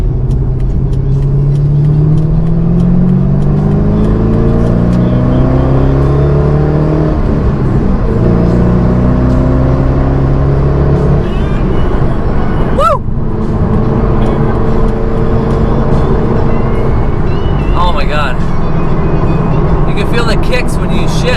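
A C5 Corvette's American V8 pulls hard on the highway, revving up through rising gear sweeps with a shift partway through, loud and close, while someone talks over it.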